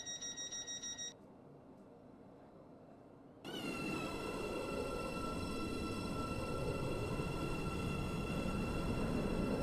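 A Waterline service train in the Roblox game SCR (Stepford County Railway): a beeping chime, a quieter stretch, then a sudden loud, steady running rumble with bright tonal whine that holds to the end.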